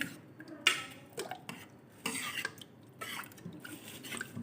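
A ladle stirring ridge gourd dal in a pot, scraping and knocking against the metal in uneven strokes, close and fairly quiet with no talk.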